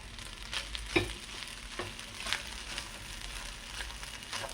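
Egg fried rice sizzling in a hot pan as pepper is added and stirred in, a steady soft fry hiss broken by several scraping stir strokes, quiet and close with no talking.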